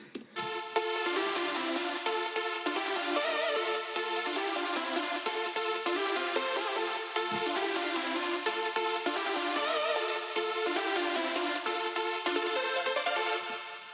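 A bright synth lead plays the main melody of an electronic song, dense layered harmonics carrying a continuous, evenly loud line for the whole stretch with no voices.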